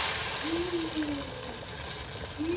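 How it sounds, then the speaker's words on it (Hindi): Hot tadka tempering hits a pot of dal in a home kitchen, giving a steady broad hiss and sizzle that fills the whole stretch, with a faint squeal in the background. "ताकि आप तड़के की आवाज़ सुन सकें"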